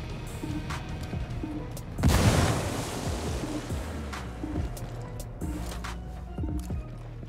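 A grenade detonates in a PC first-person shooter: a single loud, sudden blast with a rushing, rumbling tail that fades over a couple of seconds, set against a steady hum of in-game background sound.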